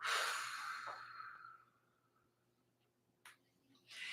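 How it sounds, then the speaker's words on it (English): A single deep breath drawn in and blown out slowly during a guided relaxation exercise, a long airy exhale fading away, followed by a faint soft rustle. "take a deep breath in and blow it out"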